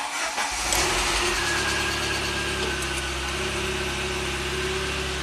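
A 1993 Saab 9000 CSE Turbo cranks briefly, catches and settles into a steady, loud idle with a constant engine drone and no talking.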